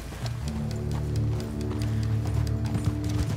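A horse in the video game Red Dead Redemption 2 moves with steady, continuous hoofbeats over a dense wash of game ambience, with no speech.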